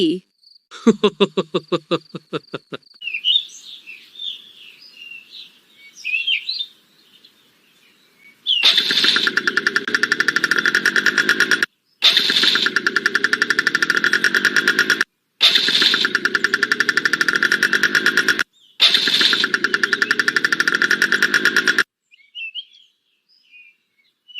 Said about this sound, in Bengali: তোমার এই ইঞ্জিনের আওয়াজ শুনে তো মনে হচ্ছে এটার আয়ু আর 2 দিনও নেই